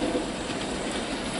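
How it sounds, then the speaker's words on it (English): A model locomotive hauls a train around a layout, producing a steady close rolling rumble and whirr of wheels with no voices. "the loco running around the layout pulling the train"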